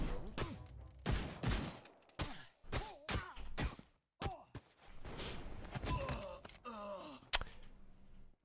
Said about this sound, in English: let's check the gun executes